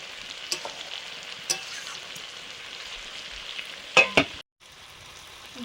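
Tomato added to mixed vegetables frying in a pan, a soft continuous sizzle with a few sharper stirring clinks and scrapes near the end, close and alone.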